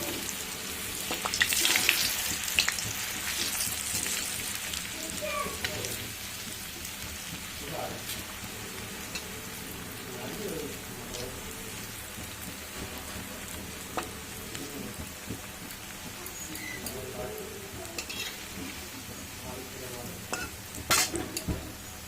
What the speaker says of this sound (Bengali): এবার আমি গ্যাসের জোরটা মিডিয়াম করে ধোকাগুলো ভেজে নেব।